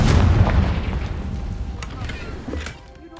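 A Confringo blasting spell going off in Hogwarts Legacy, one deep booming explosion at the start that rumbles and fades over a few seconds, with small crackling pops as debris settles.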